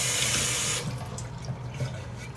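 Running tap water splashes steadily into a sink at close range, the flow changing as something is rinsed under it.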